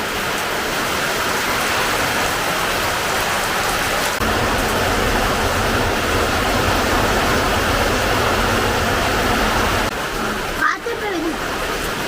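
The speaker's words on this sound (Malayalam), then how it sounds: "നല്ല മഴയായി പെട്ടെന്ന് മാറുമായിരിക്കും" Heavy rain pours down in a steady dense hiss that grows stronger partway through, with voices heard under it and a brief bump near the end.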